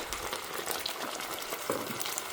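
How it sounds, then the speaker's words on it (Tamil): Ginger garlic paste fries in oil in a pan, giving a dense, even bubbling hiss with small irregular pops, steady and moderately quiet throughout. "இப்போ நான் எண்ணெய் குத்திட்டு அதில் இஞ்சி பூண்டு விழுது போட்டிருக்கேன்"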